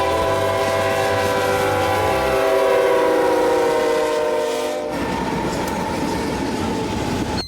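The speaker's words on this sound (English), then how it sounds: "I caught the ZALT WSP with an AC44 C4M trailing heading east" A freight train heads east at night with an AC44C4M locomotive trailing. A loud, steady horn blast sounds close by over the rolling rumble and rhythmic clatter of the wagons.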